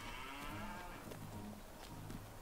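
Holstein cattle on a farm in a farming video game moo loudly and steadily through the whole stretch, with overlapping lowing calls over a constant busy background.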